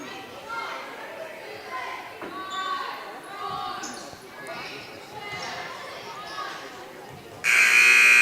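A long, loud buzzer blares near the end of a junior varsity girls' basketball game in a gym, following a stretch of crowd noise, sneaker squeaks and a commentator talking.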